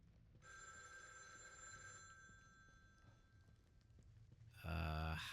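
A payphone rings in The Evil Within, a steady electronic bell tone sustained over several seconds amid dim ambience, ending in a sudden louder low-pitched burst.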